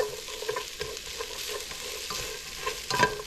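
Onions sizzle in a lightly oiled pan for chicken and sausage gumbo while a spoon stirs them, giving a steady close frying hiss broken by scraping strokes and a louder stir near the end.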